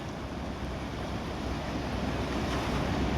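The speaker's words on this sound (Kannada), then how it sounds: "ನೋಡ್ರಿ ನೀರು ಯಾವ ಥರ ಹೊಂಟತಿ" Krishna river water rushes from two opened gates of the Hippargi barrage near Jamkhandi, a steady, loud, broadband roar of churning flow that holds without a break throughout.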